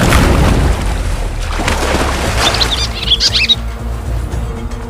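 Birds squawking and chirping over water where African tigerfish hunt, heard above a loud rumbling, splashing background, with a cluster of sharp high calls near the end.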